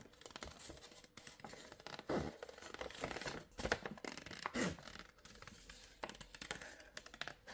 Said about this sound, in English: So I cut around the flower here.